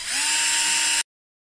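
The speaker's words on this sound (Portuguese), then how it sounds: "A gente vai furar primeiro aqui o cabo" A power drill whirs at high pitch for about a second while drilling into a handle, then stops abruptly into silence.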